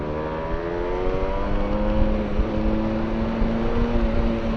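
A Yamaha TDR 125 motorcycle pulls away on a rainy road, its engine drone steady and rising in pitch with a buzzy harmonic whine, heard fairly close and continuous throughout.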